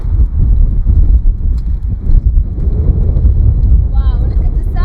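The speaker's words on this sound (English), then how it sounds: "it's too windy." Strong wind roars across the microphone outdoors in Denmark, a loud, continuous low buffeting rumble, and a voice breaks in briefly near the end.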